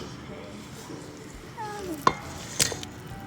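Oatmeal chocolate chip cookie dough from a Betty Crocker mix gets stirred in a bowl, making soft, muffled mixing sounds followed by a couple of sharp spoon knocks against the bowl, close and fairly quiet.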